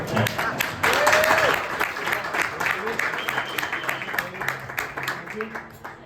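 An audience applauds steadily, many hands clapping at once, while a voice speaks over the clapping as it fades toward the end.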